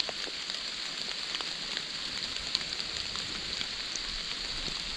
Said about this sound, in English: Right out in the open, in the pouring rain.